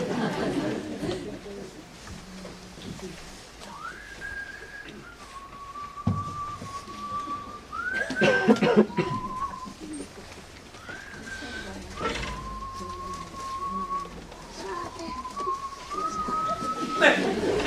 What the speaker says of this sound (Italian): Stai fischiettando la canzone di fischetto.